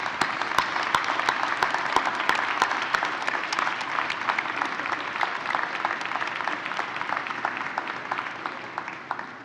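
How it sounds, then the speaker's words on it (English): Sustained applause from a large convocation audience, dense steady clapping with sharp individual claps standing out near the start, holding loud throughout before easing slightly toward the end. "give them a warm round of applause for supporting your journey"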